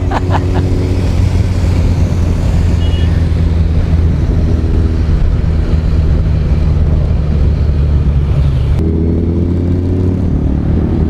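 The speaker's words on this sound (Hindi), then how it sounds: "निंजा 1000 में व्हीली मारना बहुत मुश्किल है दोस्तों" Kawasaki Ninja 1000 superbike pulling a wheelie on an open road, its engine a loud sustained roar with heavy wind rush, the note dropping sharply near the end as the throttle eases.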